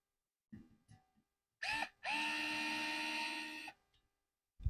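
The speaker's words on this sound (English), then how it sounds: "Just gonna screw this in just a little bit. And that goes easy with this new screwdriver." A new electric screwdriver drives screws during assembly of a Prusa MK4 3D printer kit, with two short whirring bursts, the second longer at about a second and a half, between faint clicks and handling taps.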